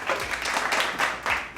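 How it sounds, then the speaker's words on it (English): A golf clap at a Dodgers baseball game, a few soft, polite handclaps in quick uneven bursts, brief and fairly close, with no voices over them. "Golf clap."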